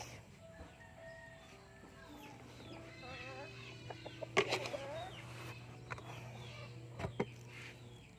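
Chickens cluck and squawk nearby, with a few sharp louder calls and a wing flutter, against a faint steady hum.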